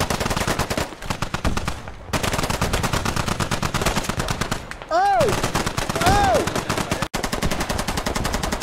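Gunfire and mortar fire in the video game Squad: dense, continuous rapid automatic bursts with heavy booming impacts, a brief whistling tone cutting through, players shouting over the battle.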